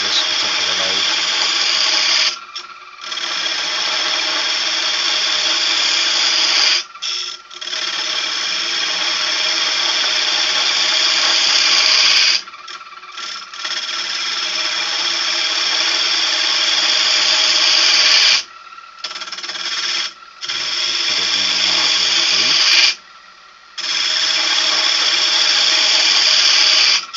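Wood is turned on a lathe to shape a goblet, a loud, sustained scraping whine that runs in long stretches broken by several short pauses.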